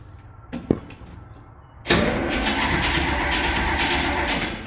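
A 1970 Jeep with a 350 engine: a couple of clicks and a brief crank, then the engine catches and settles into a loud, steady, close idle rumble that runs to the end.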